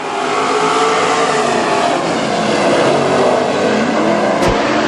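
WISSOTA Super Stock race cars at Granite City Speedway accelerate hard at the green flag, a loud, dense pack of engines roaring and revving continuously, with a short sharp crack near the end.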